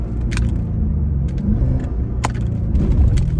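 Car engine rumbling steadily while cruising in drive, with the throttle briefly tapped and released on a car fitted with a Sprint Booster; a continuous low drone with a few short sharp ticks on top.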